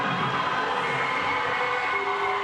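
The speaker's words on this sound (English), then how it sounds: "in the background, you can hear the crowd screaming" A CrossFit competition crowd screams and cheers in a steady, distant roar of voices that fills the background without breaks.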